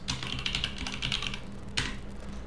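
Rapid typing on a computer keyboard while editing a Power BI data table: dense bursts of close key clicks for over a second, a brief lull, then another short flurry of keystrokes, with no talking.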